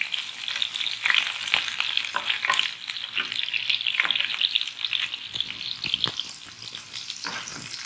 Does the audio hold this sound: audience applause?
no